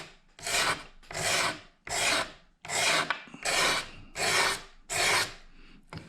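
A bevel-edged razor blade scrapes a surface in seven even, rasping strokes, each about half a second long with brief pauses between, close and fairly loud with no voices.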